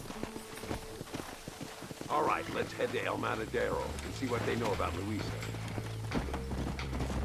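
Horse hooves clip-clop at an easy pace in the Red Dead Redemption video game, with someone talking over the steady hoofbeats and a low humming music bed underneath.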